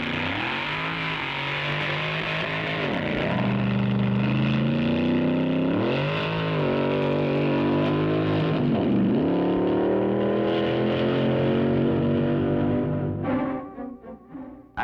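Drag racing cars at the 1962 U.S. Nationals accelerate hard down the strip, a loud continuous engine roar with rising pitch sweeps as gears change, fading out at the end.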